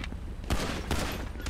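Gunfire during a gunfight rings out at a distance as a few sharp shots over steady background noise, with two louder reports standing out in quick succession.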